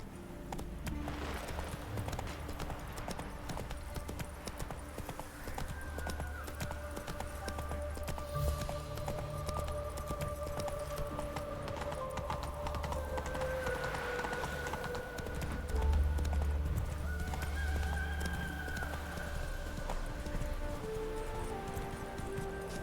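Roach, a horse in The Witcher 3, keeps up a steady clip-clop of hooves under continuous game music and ambience. The hoofbeats stay evenly paced throughout, with a brief louder thump near the middle.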